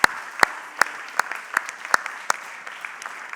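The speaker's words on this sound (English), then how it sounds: "Let's give a big round of applause to those students who graduated with the Advanced Diploma" Scattered clapping from a graduation ceremony audience at HTMi, with distinct sharp claps in a loose, fairly steady rhythm for a few seconds, fairly close and moderately loud.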